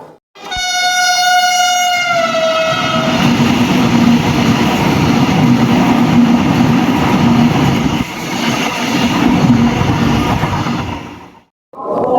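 The Thiruvananthapuram–Chennai Superfast Mail Express passenger train arrives at Ernakulam Town station: a loud horn blast at the start, then a steady, heavy rumble of rolling wagons close by, with no one talking.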